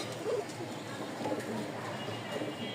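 A male and female pair of Rajgolla pigeons coo softly and close by in short, low phrases, with a faint murmur of background voices.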